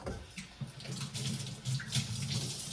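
Water rushing steadily through the group head of an Arrarex Caravel lever espresso machine, a close, continuous gushing stream with small splashy fluctuations and no voices.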